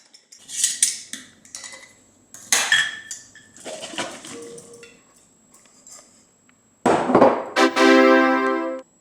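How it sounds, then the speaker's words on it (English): A small spatula scrapes creamy dressing out of a glass mason jar, producing close clinks and scraping bursts of glass and utensil contact, ending in a louder rattle, with no speech. "If you have a creamy based dressing, you might need a little spatula to get it all out."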